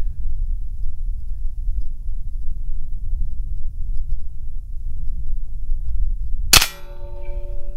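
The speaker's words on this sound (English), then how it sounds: "let's see if I can make this bullet find the center of that X" A single sharp gunshot aimed at an X to split playing cards cracks out near the end, loud and close, after several seconds of low outdoor rumble, followed by a brief ringing metallic tone.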